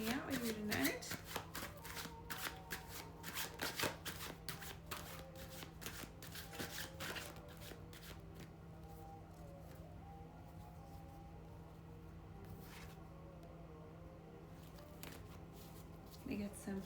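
Tarot cards shuffled by hand at close range, a steady run of soft riffling flicks and slides over a low constant hum, with a voice speaking briefly at the start.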